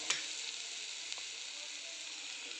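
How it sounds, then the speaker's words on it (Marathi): Masala frying in a pan while being sautéed for patodi bhaji, a steady soft sizzle with faint stirring clicks, quiet and close, with no voices. "मी मसाला टाकून घेतलेला आहे त्याच्यात. चांगलं त्याला परतून घेऊ"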